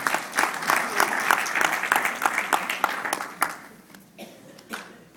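An audience at a book release event in Canada breaks into lively applause, dense clapping that swells and then thins into scattered claps as it fades.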